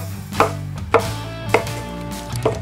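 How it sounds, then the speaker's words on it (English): A kitchen knife chops and slices shiitake mushrooms on a cutting board for chanko nabe, four sharp, evenly spaced cuts over a low background hum. "Chop off the stem of the shiitake mushrooms and cut into slices."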